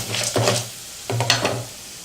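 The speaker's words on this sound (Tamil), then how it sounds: "கடுகு, உளுத்தம்பருப்பு, கடலைப்பருப்பு நல்லா பொன்னிறமாக வர அளவுக்கு பருப்பெல்லாம் நம்ம வறுத்துக்கணும்." Mustard seeds, urad dal and chana dal roasting in hot oil for beetroot rice, with two close bursts of crackling sizzle and stirring separated by a brief lull, no talk heard.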